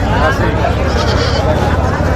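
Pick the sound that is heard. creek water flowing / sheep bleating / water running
sheep bleating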